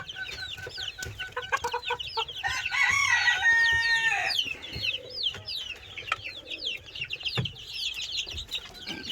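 Chickens and roosters in a coop keep up constant clucking and chattering, and a loud rooster crow rises in the middle, close and layered over steady flock noise.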